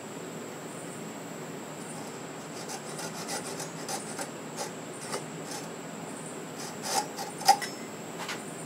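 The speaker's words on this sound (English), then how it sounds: "I can finish it off with a little saw." A small hand saw cuts through a wooden button-style Christmas ornament, faint quiet rasping strokes that grow into a few sharper scrapes near the end.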